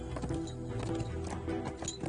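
A ridden horse clip-clops steadily at a moderate distance in a film scene, hoof beats falling in an even rhythm over a continuous low background hum.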